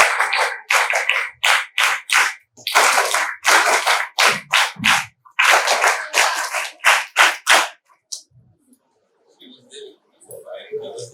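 Rhythmic group clapping at a Kargil Vijay Diwas school assembly, bursts of many hands striking in steady beats with short pauses, then it stops and a faint quieter stretch follows with scattered background sounds.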